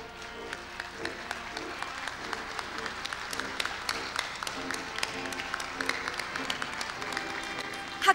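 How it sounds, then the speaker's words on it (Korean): Audience applause welcoming a new university president at a Korea University inauguration ceremony, steady sustained clapping from a large crowd throughout, with a few sharper individual claps standing out. "큰 박수로 환영해 주시기 바랍니다"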